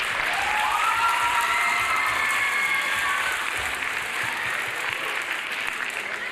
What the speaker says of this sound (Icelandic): Klapp fyrir ykkur